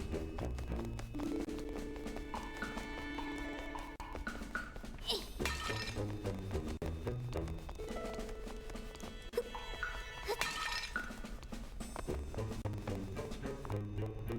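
Clay pots smashing in a Zelda video game at Hyrule Castle, two sharp shattering crashes a few seconds apart over game music and light tapping sounds.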